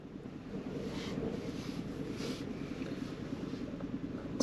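Strong wind gusting across an exposed spot on Dirk Hartog Island in Western Australia, a steady low rumble and roar of air buffeting the microphone, continuous and fairly loud with no voices.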